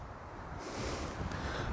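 Wind rushing past a person in flight outdoors, a steady broadband roar that grows louder and hissier partway through, with no talking.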